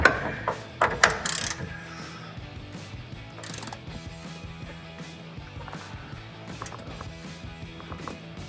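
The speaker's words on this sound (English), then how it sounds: "we're gonna take a 21 millimeter wrench and ratchet and start and do like take these bolts out" A ratchet with a 21 mm socket works at the front strut bolts of a 2007-2018 Chevrolet Silverado, giving rapid clicking pawl runs in quiet bursts, close up, with a few sharper metallic knocks at the start.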